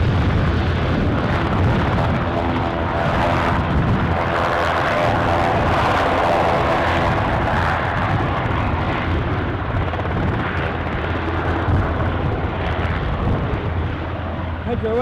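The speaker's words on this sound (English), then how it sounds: "So we have a Embraer 145 taxiing out." At Aberdeen Airport an Embraer 145 taxis out, giving a loud, continuous jet engine roar and whine that holds steady throughout, with outdoor wind noise and faint voices underneath.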